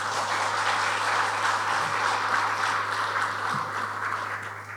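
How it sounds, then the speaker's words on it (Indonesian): Audience applause at a political party gathering during Puan Maharani's working visit to Brebes: a dense, steady wash of clapping that holds at an even, fairly loud level for the whole stretch, with no voices over it. "Tepuk tangan dong."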